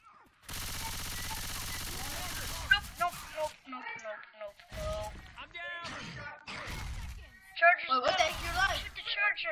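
Gunfire in the zombie shooter Left 4 Dead 2: a loud, dense burst of rapid automatic shots for about two seconds, then scattered shots and impacts mixed with game noise and several players talking over it.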